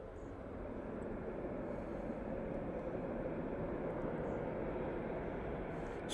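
An airliner arriving from Belfast lands at Manchester Airport, a steady broad roar of engines that holds evenly throughout at a moderate distance, with no voices.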